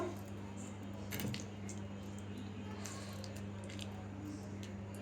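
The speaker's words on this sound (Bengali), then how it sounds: "তো আমগুলো থেকে আমি একদম রসটাকে আলাদা করে নিচ্ছি।" Hot roasted mangoes are squeezed by hand to pull out the pulp, giving faint wet squelches and soft squishes over a low steady hum, with a brief busier patch early on.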